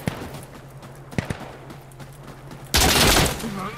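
Gunfire in Insurgency Sandstorm during a team deathmatch: a few sharp, scattered shots over a low hum, then a loud, dense burst of fire that fills the last second.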